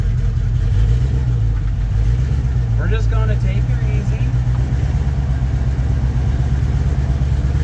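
Steady low rumble of a 1954 Chevy 3100 pickup engine while the truck is driven for the first time, loud and continuous with a mild rise in pitch, and someone talking briefly over it.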